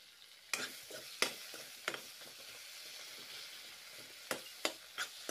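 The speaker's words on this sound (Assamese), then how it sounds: "এতিয়া বিলাহীখিনি ভালদৰে লৰাই আছোঁ মই হেতাখনেৰে।" Salted tomatoes fry in a pan for a fish curry with spinach, a soft, quiet sizzle punctuated by several sharp spatula scrapes and knocks spaced irregularly, close by and without speech.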